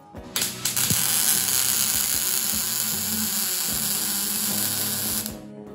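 A MIG welder running with the wire speed set too high gives a harsh, high-pitched buzzing crackle that starts abruptly and holds steady for about five seconds, loud and close with no speech.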